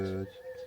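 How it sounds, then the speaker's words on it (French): A bird cooing softly, a short low call followed by faint chirps in a quiet outdoor setting. "Avec les petits oiseaux qui chantent."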